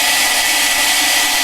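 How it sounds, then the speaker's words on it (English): A heat gun blows steadily to dry acrylic paint on a miniature viper painting, a loud, constant broadband whoosh with no break and no voices. "I feel like the heat from the heat gun"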